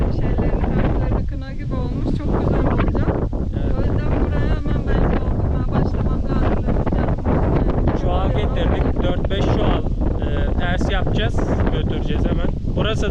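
Gusty wind buffets the microphone outdoors in a village field at planting time, with a continuous rumbling roar, while people talk underneath it.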